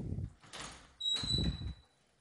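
A linen closet door in a master bathroom slides or swings open with two short bursts of rolling and knocking, close by and fairly quiet, ending in a brief faint squeak.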